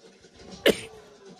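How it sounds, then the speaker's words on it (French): One sharp, loud sneeze bursts out close by, a short explosive blast standing alone against a quiet room. "vous voyez, j'éternue."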